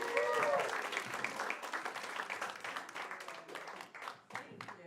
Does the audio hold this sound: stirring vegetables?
no